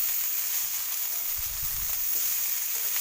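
Cauliflower spiced with coriander, cumin and Kashmiri red chili powder sizzles steadily in a pan, a continuous close frying hiss with a brief low stirring rumble midway and no talk.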